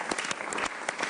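Studio audience applause on a Pakistani cricket talk show, a dense, steady burst of many hands clapping close by with no talk over it.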